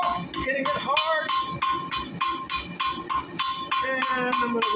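A hammer pounds hot metal on an anvil while forging a small hummingbird, about a dozen hard, ringing strikes in a steady quick rhythm. Someone talks over the blows.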